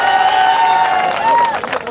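Audience applause and cheering at a protest sit-in site, a steady wash of clapping from a crowd that swells and holds for about two seconds, with a tonal voice-like line running underneath.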